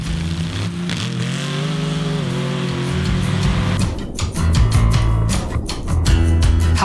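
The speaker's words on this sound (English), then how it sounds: "Paddle tires working great, and nobody holds the throttle down like Justin Haft." An off-road buggy on paddle tires roars at full throttle in a tow test, its engine loud and close, revving hard and climbing in pitch with sharp bursts of dirt and debris toward the end.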